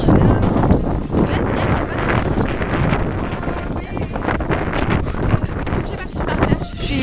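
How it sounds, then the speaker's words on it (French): Light wind buffets the microphone outdoors in a continuous rough rush and rustle that swells and eases throughout, loud and close. "il y a un petit vent."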